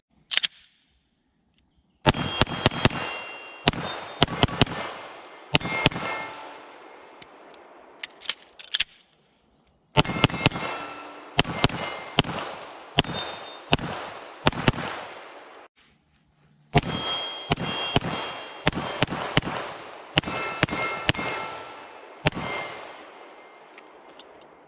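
A Glock 17L longslide pistol fires at steel targets in several rapid strings of shots, each sharp report followed by a ringing metallic clang, with short pauses between volleys.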